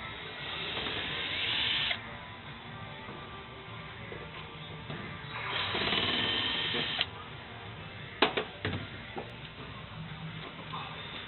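A power driver backs 4mm bolts out of a front panel, giving two steady whirring bursts with a pause between them, followed by a few sharp clicks and taps.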